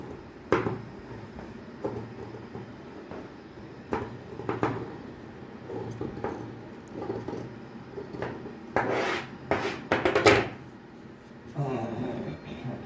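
Scissors cutting fabric at a garment's armhole, giving scattered crisp snips and rubbing sounds close by, with a louder cluster of cuts near the end.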